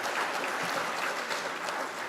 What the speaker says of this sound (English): Let's give these individuals a round of applause for their support of KAMS AMS students.